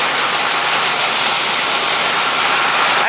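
Tractor engine running at low idle as a grain cart empties, a steady loud broadband roar and hum that stays constant and close throughout, with no talk over it.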